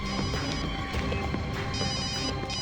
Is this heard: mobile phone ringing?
yes